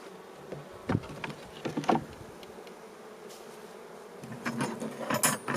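Honeybees buzz in an opened hive box during a queen search, a low insect drone close by with intermittent clunks and scrapes of frames being handled.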